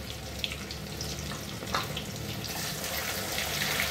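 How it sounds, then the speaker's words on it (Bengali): Chicken pieces fry over high flame in a pan, giving a steady, close hiss and sizzle with faint crackles throughout, no voices present. "চিকেনগুলোকে হাই ফ্লেমে ভাজবো, নাহলে জল ছেড়ে যাবে।"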